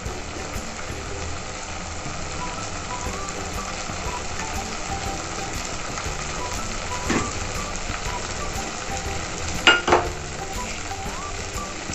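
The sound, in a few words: masala spices frying in oil for paneer masala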